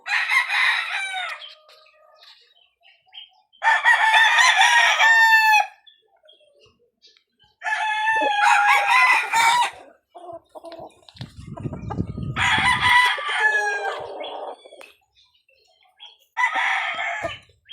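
A Sweater gamefowl broodcock crows repeatedly in a backyard, five loud, close calls separated by short pauses, with a brief low rumble between two of them.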